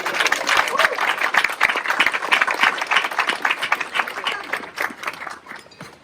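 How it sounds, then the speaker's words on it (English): An outdoor crowd at a community center reopening in Seattle applauds steadily, with dense, continuous clapping and some cheering for the mayor that gradually thins out toward the end. "So please give a big round of applause for our mayor."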